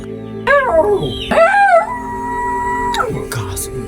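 A person mimics a dog's howl, rising and falling in drawn-out wavering wails, two close together and then a third after a pause, loud and near in a Filipino aswang tale.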